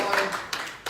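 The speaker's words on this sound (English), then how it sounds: "I think a round of applause for Ben as well" A few scattered hand claps sound in a round of applause for Ben at a surf film gathering. The claps are brief and sparse, without crowd noise.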